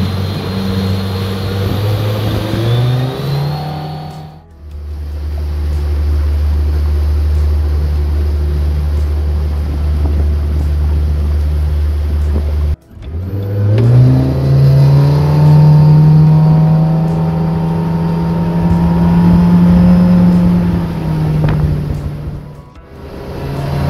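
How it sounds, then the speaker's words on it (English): A Suzuki DF115 four-stroke outboard boat motor runs smooth and steady, with loud, even droning passages broken by brief pauses and a rise in pitch as it revs up, with no voices. "some of the clips here of the motor running and how quiet it is"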